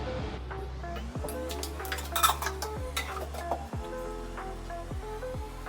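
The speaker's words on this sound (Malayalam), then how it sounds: "എനിക്ക് കുറച്ച് പാത്രങ്ങൾ കഴുകാനുണ്ട്." Dishes are washed in a home kitchen: pots, plates and cutlery clink and clatter close by in irregular bursts over a steady low background hum.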